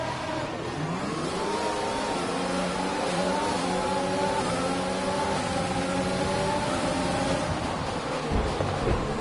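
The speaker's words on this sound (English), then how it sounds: "Hearing engine tones is almost all of the strategy for starting." Engines of F1 2020 game cars rev and climb in pitch at a race start, several overlapping tones rising together in a loud, continuous roar that carries on for seconds.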